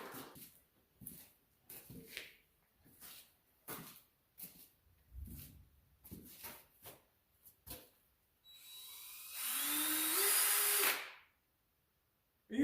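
Power drill whirring on a farm, a single sustained high-pitched spin of a couple of seconds that rises in pitch, following a stretch of scattered short knocks and thumps with quiet gaps between.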